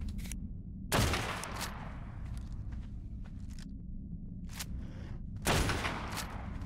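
Rifle fire in the ARK video game inside an ice cave, two sharp loud shots about four seconds apart over a constant low rumble, with faint clicks and small handling noises in between.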